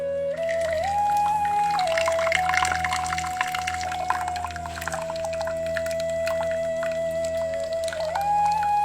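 Water is drained off cooked rice in a kitchen, a steady close pouring and gushing flow lasting several seconds alongside a thin high whistling tone.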